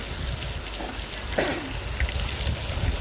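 Bitter gourd seeds frying in a pan with no salt or turmeric give a steady, close sizzle and crackle that runs evenly throughout, with a few brighter pops, and no one speaks.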